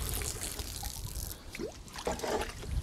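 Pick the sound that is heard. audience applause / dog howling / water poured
water poured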